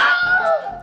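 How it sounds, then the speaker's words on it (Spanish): A short, piercing male scream, the stock Wilhelm scream film effect, rises and falls in under a second, loud and alone. "el grito de Wilhelm es este"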